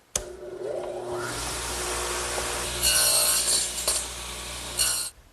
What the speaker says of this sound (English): And now I'll just nibble away that shoulder.